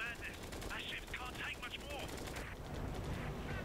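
Rapid bursts of aircraft machine gun fire in the Flying Tigers: Shadows over China game, rattling steadily through a noisy air-combat mix, with a voice talking partly over it.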